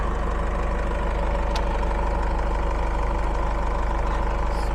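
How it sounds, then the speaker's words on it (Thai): A 2.5-litre VGX Turbo diesel engine in a 2005 Isuzu D-Max double-cab pickup idles steadily with a rapid, even low rumble and clatter, loud and close, without pause. "เครื่องยนต์จะเป็นตัว VGX Turbo นะครับ2005ดีเซลนะครับ"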